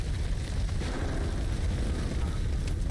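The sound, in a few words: grenade explosion in a video game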